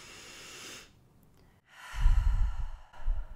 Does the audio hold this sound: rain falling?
no